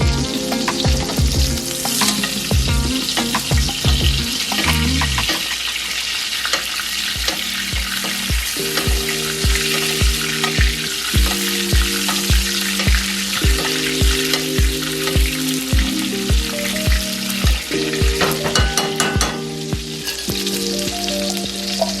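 A steak cooks in a hot pan with herbs and garlic for a caprese dish. It gives a steady close sizzle with a sharp clatter of scraping and stirring that keeps returning throughout, loud and with no voices.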